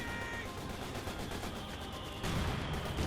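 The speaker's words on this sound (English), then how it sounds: "And just continue mortar fire again and again" Mortar and artillery fire in Company of Heroes 2 rumbles as a dense, continuous wash of distant booms and gunfire, growing slightly louder near the end, with no talk over it.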